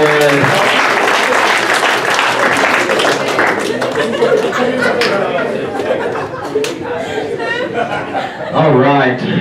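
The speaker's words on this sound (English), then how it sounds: "Give her a round of applause." An audience at a comedy hypnosis show at Granbury High School breaks into loud applause mixed with chuckles and chatter. The clapping is strong and close, then eases while voices and laughter carry over it.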